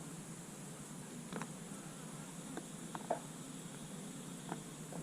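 Honey bees swarm around an open hive during a beekeeper's inspection, a continuous faint buzzing drone with occasional small clicks and taps of handling nearby.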